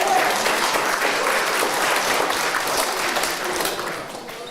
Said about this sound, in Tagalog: Palakpakan ng Panginoon.